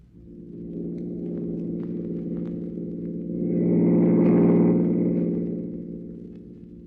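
A car engine from a 1938 radio drama gives a steady low rumble and hum that swells louder around the middle, as if accelerating, then eases back. No one speaks.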